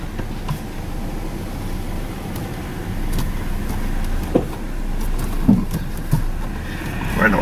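Chevy S-10 pickup rolling slowly in four-wheel drive with a noisy 4x4 front axle, steady road and drivetrain rumble heard from inside the cab, with a few scattered clunks and knocks along the way.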